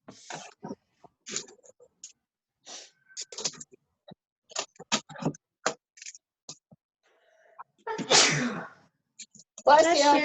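Sneezes burst out among scattered soft clicks and faint talk, with one strong, close sneeze near the end followed by another loud one.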